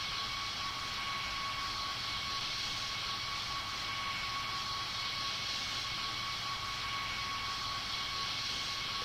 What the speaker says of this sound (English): So let's taxi over to the runway right now.